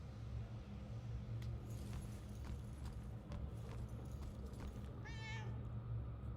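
A cat in the video game Murdered: Soul Suspect gives a single short, rising meow near the end, clear above a low steady ambient hum with faint scattered clicks and taps.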